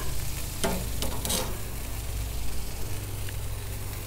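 Meat cooking on a smoker grill, a soft continuous sizzle and crackle with a low steady hum beneath, punctuated by a few brief scraping or handling clicks near the start.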